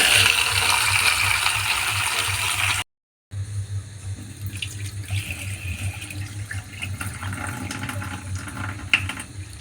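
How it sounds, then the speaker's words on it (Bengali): Kabuli chickpeas being washed in water, with running tap water, sloshing and rattling of the chickpeas in a vessel, close and continuous, broken by a brief silent gap. "তো এবার এই কাবলি ছোলাটাকে 3-4 বার করে ধুয়ে জল পাল্টে ধুয়ে নেব।"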